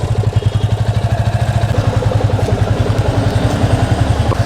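Yamaha FZ25 motorcycle exhaust at idle, recorded up close: a continuous rhythmic low thump with mechanical clatter, holding a steady pace and loudness throughout with no speech.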